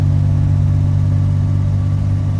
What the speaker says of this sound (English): I hear the fan too. I can hear it whirring.